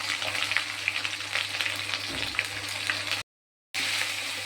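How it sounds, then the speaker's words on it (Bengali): Ginger, cumin and green chilli paste with salt and turmeric fries in a pan, giving a steady close hiss and crackle with a soft stirring scrape partway through and a short gap of silence. "মশলাটা ভালো করে কষিয়ে নেব।"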